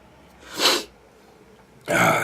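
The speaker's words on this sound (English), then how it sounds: "Inopportune for sneezing time." Two sharp sneezes, a short burst and then a louder one about a second and a half later, close to the microphone against a quiet room.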